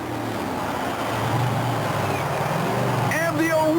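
A Bigfoot Ford monster truck's engine roars through a steady, loud, continuous run at a 1991 USHRA monster truck event, with an announcer speaking over it.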